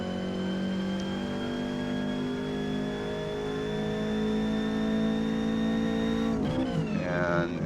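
A Ford Cortina racing car engine in the Forza Motorsport video game, tuned for D class at Mid Ohio, droning loudly at steady high revs with a sharp shift and change in pitch near the end.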